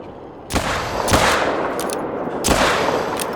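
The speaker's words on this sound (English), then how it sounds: "Once you get here, you just start shooting." Loud rifle shots in a hunting video game during a croc grind, a few heavy booming reports spaced about a second apart over a steady roar of background noise.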